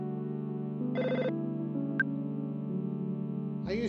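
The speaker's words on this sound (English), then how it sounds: "Phone's ringing." Telephone ringing in the Earthbound video game, a steady electronic ring tone sounding continuously over a sustained musical backdrop, with a brief bright chime near the middle.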